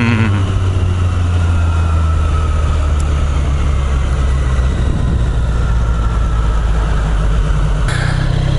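A Triumph Street Triple motorcycle engine idles steadily nearby, a continuous low throb with a brief mechanical click near the end and no talk.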